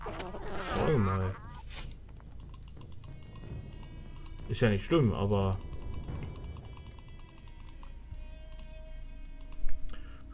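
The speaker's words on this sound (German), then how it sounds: "tut mir leid für das laute Klicken der Maus" A loud computer mouse clicks in rapid, steady bursts during a session of the PC game Gothic 3, sitting close under a man's conversational German speech with a couple of busier clusters through the stretch.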